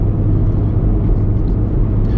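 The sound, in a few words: hybrid car engine running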